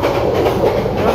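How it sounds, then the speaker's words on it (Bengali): The Sonar Bangla Express running fast toward Dhaka, heard from inside as a loud steady rumble of wheels on track with faint clickety-clack, continuous and close. "অলমোস্ট 77 কিলোমিটার পার আওয়ারে 788 সোনার বাংলা এক্সপ্রেস ঢাকাতে অভিমুখে চলছে।"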